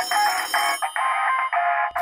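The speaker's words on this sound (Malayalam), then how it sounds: "Phone, phone." Cartoon telephone ringing in a looping electronic trill, sounding as three loud, close bursts with short gaps between them and nothing else underneath.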